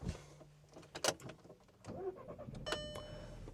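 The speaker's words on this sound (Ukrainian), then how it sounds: "впихаємо ключ та запускаємо автомобіль" A 2012 Volkswagen Touran 1.4 TSI automatic's starter cranks briefly and the engine catches, with key and switch clicks and a chime, fairly faint and close inside the vehicle.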